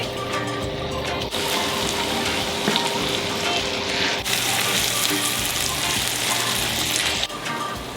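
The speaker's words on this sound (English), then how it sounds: "So the onion is now golden, as you can see, so I'm gonna start adding the mushrooms to it." Mushrooms fry in butter with golden onions in a pan, making a close, steady sizzle with several abrupt shifts in level and a few clinks as the pan contents are moved.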